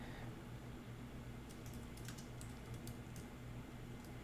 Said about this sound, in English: Let me just type in the chat, make sure everybody can hear me okay.